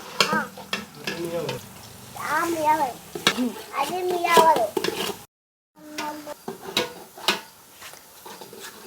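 A young child stirs Pondicherry-style biryani in a pot over sizzling onions, the ladle scraping and knocking in bursts while children's voices chatter close by, broken by a brief moment of silence.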